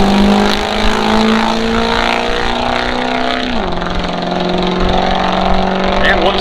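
A 2004 Ford F-250 diesel truck launches at a drag strip in Marengo, Illinois, with a loud, continuous engine roar up close. The engine note drops sharply midway, like a gear change, then keeps roaring.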